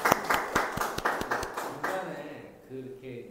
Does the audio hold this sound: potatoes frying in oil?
no